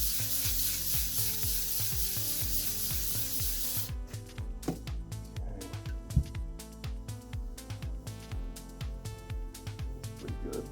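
A composite stone surface being sanded and polished to remove scratches: a steady abrasive spray-like rush gives way to a rhythmic series of rubbing strokes over a low machine hum.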